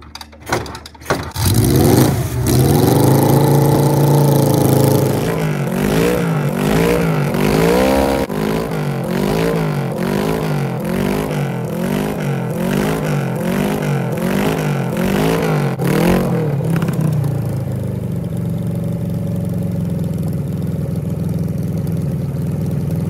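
A Kawasaki Z1B 900 motorcycle, unrun since 1979, cranks and fires up with choke on, then settles into a loud, steady idle with repeated rhythmic throttle blips before dropping back to a rough idle.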